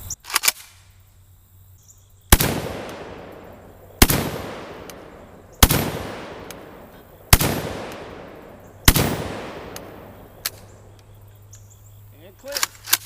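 JTS M12AK shotgun fired five times at a steel diamond target, loud booming blasts spaced roughly 1.5 seconds apart, each decaying with a ringing tail, with faint metallic clicks of the action between shots.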